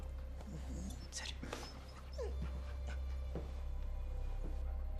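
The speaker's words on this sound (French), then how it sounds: "T'es vraiment un bon chien." A dog whimpers with soft, high, broken whines and yips close by, over a steady low hum, with a person speaking quietly in between.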